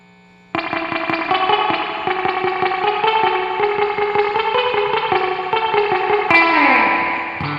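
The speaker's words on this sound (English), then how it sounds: "Neck, bridge, half output," A Mosrite-style electric guitar on combined neck and bridge pickups at half output, drenched in heavy reverb, picks a steady run of evenly spaced notes that start abruptly and carry on continuously with a washy effects tail.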